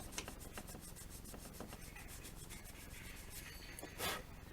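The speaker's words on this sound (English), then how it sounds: "take a light sandpaper just to blend those in" Light sandpaper rubbed over a plastic model kit part of a Star Trek Klingon D7 battle cruiser, a faint continuous rasp of quick back-and-forth strokes, close and steady throughout, with one brief louder scrape near the end.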